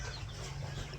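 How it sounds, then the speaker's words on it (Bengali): Chickens cluck softly in the background, a brief, faint burst of low fowl calls. "মুরগিগুলো যে কিচিরমিচির কিচিরমিচির করতেছে সবসময় ডাকাডাকি করে"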